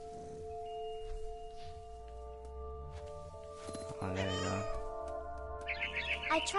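A cat meows in the video game What Remains of Edith Finch, with a couple of drawn-out, wavering cries over a steady tonal game ambience and soft background hum, followed by a higher chirpy sound near the end.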